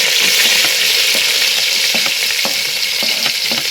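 Garlic, ginger and green chilies sizzle in hot oil with mustard seeds and fenugreek, a steady loud frying hiss with occasional crackles and stirring ticks throughout, no voices.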